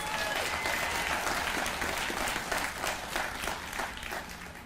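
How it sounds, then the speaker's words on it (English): A crowd applauds steadily at a university building dedication ceremony, dense clapping filling the room at even loudness before easing off slightly at the end. "big round of applause"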